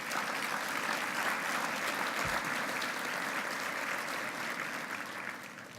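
Audience applause fills a charity luncheon for Childhaven in 2019, a dense, steady wash of many hands clapping at close range that holds evenly throughout and eases slightly toward the end.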